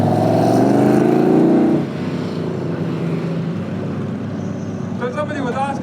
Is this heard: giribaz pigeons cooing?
no